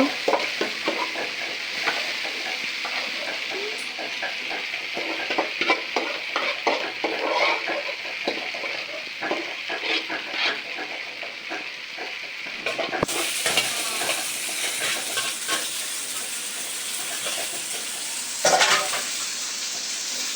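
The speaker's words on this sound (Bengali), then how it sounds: "এই যে এদিকে আলু ভাজিও করা হইতেছে।" Potatoes and leafy greens fry in a pan, a constant close sizzle broken by scraping and clinking as a utensil stirs them against the metal.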